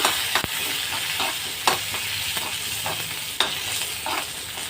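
A spoon scrapes around a hot pan in slow, regular strokes over a constant sizzle of mustard seeds and curry leaves frying.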